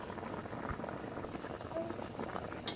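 Hasty pudding dumplings simmering in a pot of boiling water, a steady close bubbling and light patter running throughout, with one brief sharper clink near the end.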